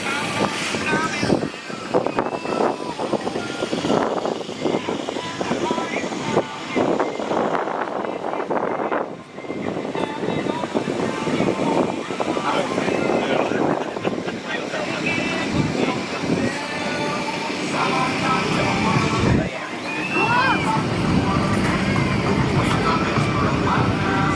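A Shockwave jet truck roars continuously at a New Orleans airshow, a loud, sustained jet blast with wind buffeting the microphone and a crowd talking underneath throughout.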